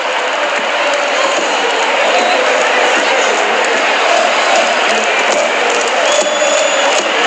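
Steady roar of a football stadium crowd at Barcelona versus Sevilla, a dense continuous wash of massed voices and chanting with no pauses, with a commentator talking over it.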